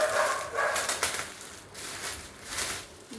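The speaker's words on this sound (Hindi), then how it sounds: "कुत्ते भौंक रहे हैं रात में।" Dogs bark at night at a distance, a few faint, scattered barks against quiet background noise.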